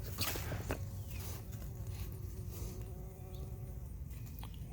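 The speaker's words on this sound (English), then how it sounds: "There's a bee down in there." A bee buzzing down inside a yellow squash plant in a home garden, a continuous close droning hum with slight shifts in pitch, heard over faint outdoor rustling and footsteps.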